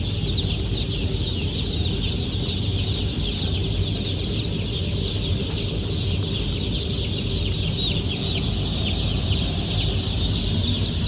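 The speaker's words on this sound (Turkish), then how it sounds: "Evet, 650 kasa civciv geldi." Dense, continuous chirping and peeping from many young chicks fills an enclosed poultry house, with a steady low rumble of machinery underneath.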